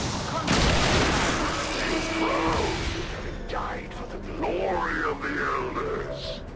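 A grenade explosion in XCOM 2 War of the Chosen: one loud, close blast bursts out near the start and rumbles on, then voices follow over the fading noise.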